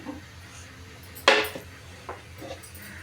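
A metal pan set down on a gas stove before cooking mango pickle, one sharp close clank followed by a couple of softer knocks.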